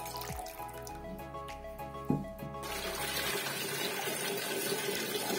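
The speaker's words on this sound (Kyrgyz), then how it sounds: "Андан кийин суусун куюп алабыз кастрюлябызга." Compote liquid poured from jars into a pot, a continuous watery gurgle and splash that starts modestly and grows into a fuller, steady rushing pour toward the end.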